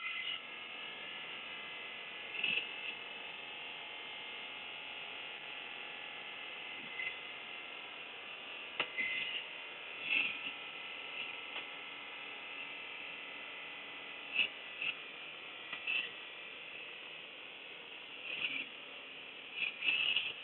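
Electric motor run by an open source AC controller during a regenerative braking test, its throttle turned slowly: a faint, steady high whine holds throughout, broken by a few soft clicks.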